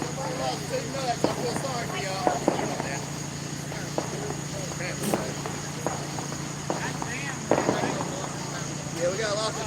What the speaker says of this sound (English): you're hearing fireworks in the background